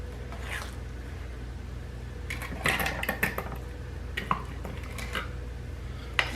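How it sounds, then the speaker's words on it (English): Soft clinks and scrapes of a spoon dropping thick cake batter into small metal cake pans, scattered over a steady low hum. "let me spoon the mixture into these little cake pans"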